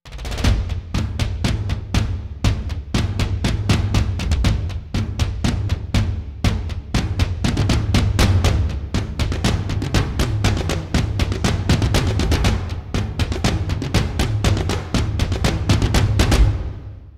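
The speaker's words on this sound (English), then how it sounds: "Let's take a listen to a short passage created with some toms." A short passage of rapid tom-tom hits rolls on continuously and loud, dense strikes packed close together with deep low-end body throughout, ending in a brief decay.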